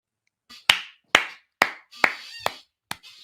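Several sharp, separate claps spaced roughly half a second apart, close and loud, with short ringing tails and no speech.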